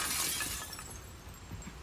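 A window pane shatters loudly in The Last of Us Part II, a sharp crash of breaking glass followed by a short tail of falling, tinkling shards.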